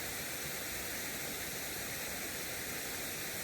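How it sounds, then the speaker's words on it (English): A small waterfall on a frozen river in winter in Cape Breton, Nova Scotia, pours as a steady, dense broadband rush of water that holds constant throughout, with no voices over it. "We're just here enjoying the waterfall today"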